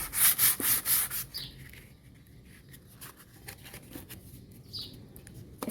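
Close, loud rhythmic rasping of 220-grit sandpaper stripping old paint from an antique wooden nightstand, a quick run of strokes at first, then softer, slower rubbing.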